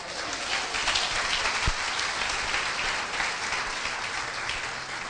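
A church congregation gives loud applause to the Lord during a sermon, a steady, dense roll of clapping heard from some distance, continuous for several seconds without voices on top.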